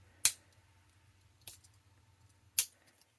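The small scissors of a Victorinox Climber Swiss Army knife give three sharp, close clicks spaced roughly a second apart against a quiet background with a faint low hum.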